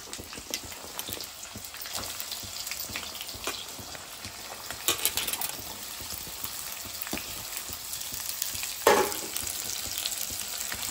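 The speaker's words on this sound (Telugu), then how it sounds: "మంచిగా వేయించుకోవాలండి. ఇవి బ్రౌన్ కలర్ వచ్చే వరకు వేయించుకోవాలి." Three onions fry steadily in a pan for green chicken, a continuous crackling sizzle at moderate level with occasional louder spits and stirs; no talking.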